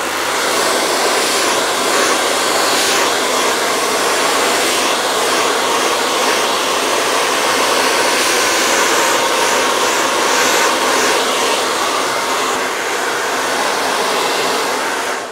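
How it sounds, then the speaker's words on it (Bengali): A hair dryer blows a loud, steady roar while hair is dried for volume in a parlour styling session, running continuously from start to finish. "তো গাইজ আমি নিয়ে নিচ্ছি ড্রায়ার।"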